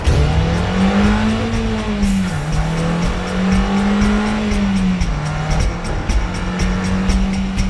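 A car engine revs loud and close, rising and falling steadily, while tires squeal over it throughout, with no voices.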